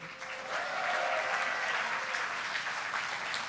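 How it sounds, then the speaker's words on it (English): Steady applause from a large crowd at a Hearthstone event, dense clapping that swells early and holds at an even level throughout. "why don't we give one more big round of applause to Eric Dodds and the Hearthstone team"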